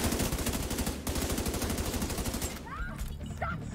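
Rapid automatic gunfire in The Division 2, a loud sustained burst of rattling shots that breaks off briefly and resumes, then fades into quieter game sounds near the end.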